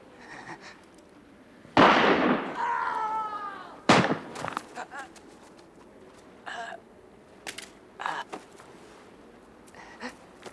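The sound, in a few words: gunshots fired in a film scene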